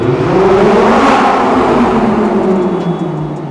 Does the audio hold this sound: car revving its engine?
yes